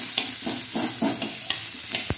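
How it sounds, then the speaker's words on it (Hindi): Onions fry in a pan with a close, steady sizzle, broken by bursts of stirring scrapes in an even rhythm and one sharp clank near the end; no one speaks. "तो पियाज जस्ट टे लुण एड करद मिक्स करद प्याज को 3-4 मिनट फ्राए करेंगे"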